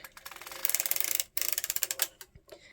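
A circular sock knitting machine is cranked around, giving rapid, evenly spaced mechanical clicks close by in two bursts with a brief pause between them.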